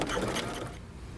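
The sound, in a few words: sewing machine sewing around a jeans waistband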